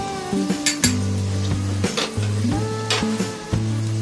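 Cumin and turmeric powder sizzle in hot oil in a pan for moong dal, a constant frying hiss broken by several clinks and scrapes of a spoon against the pan.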